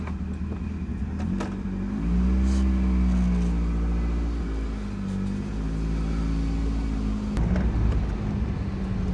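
An old Ford car engine runs steadily on a test drive, a low droning hum that rises and falls with revs, heard alone without talk.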